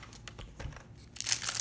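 The plastic packet of an L.O.L. Surprise toy crinkles and crackles close by in quick irregular bursts as it is handled and torn open, louder toward the end.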